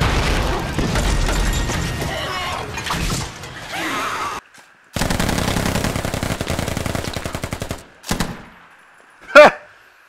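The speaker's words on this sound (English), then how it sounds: "Machine gun ready." Machine gun fire in the military shooter Squad: rapid, loud automatic bursts in long rhythmic strings, broken by brief pauses, ending with a short burst and a heavy boom, and no talking over the shooting.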